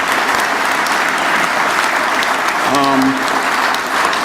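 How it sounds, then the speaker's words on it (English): Audience applause at a journalism symposium in a hall, a steady wash of clapping from the crowd, with a brief voice breaking through near the end. "let's give them a round of applause"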